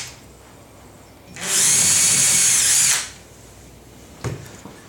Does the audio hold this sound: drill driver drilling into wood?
yes